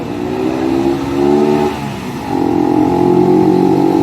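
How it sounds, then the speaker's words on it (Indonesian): A motorcycle engine climbs the steep Bibis hill in Kulonprogo, revving hard and close in two strong surges with a brief dip between them as the throttle eases and opens again. "Sekarang yang didorong motor coy."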